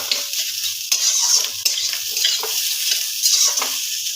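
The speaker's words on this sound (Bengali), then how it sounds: "এই আলু আর উচ্ছেটা দিয়ে ভালো করে নাড়াবো।" Bitter gourd and potato pieces are stirred in a frying pan, a steady close sizzle with scraping stir strokes recurring throughout and no talk.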